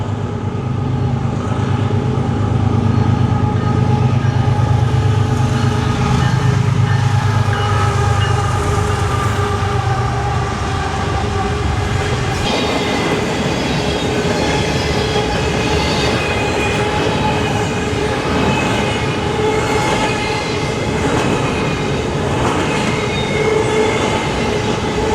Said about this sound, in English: I see a train coming way down there